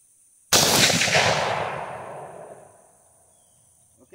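One sharp, loud gunshot fired at a clay target at night, a sudden blast with a long rolling echo that decays over a few seconds into near silence.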